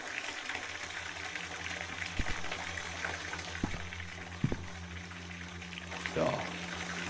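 Water runs steadily into a bathtub in the horror game VISAGE, a continuous mid-level rushing broken by a few brief knocks and a faint sweep near the end, with someone talking over it at times.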